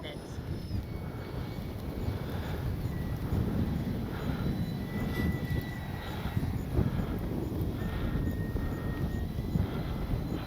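A Freewing AL37 RC jet flies in gusty wind, a steady broadband rush of ducted-fan and wind noise that holds at a constant level throughout, with no voices.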